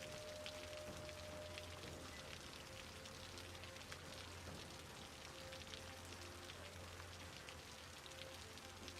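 In-game rain falling in the city-building video game Cities: Skylines, a quiet, steady hiss of rainfall on surfaces with a low constant hum beneath and no speech.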